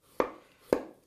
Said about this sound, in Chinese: 再切一点蒜